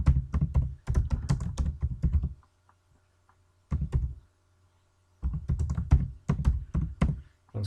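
Bursts of brisk keystrokes on a computer keyboard while writing a letter in a word processor, close and clear, separated by short pauses.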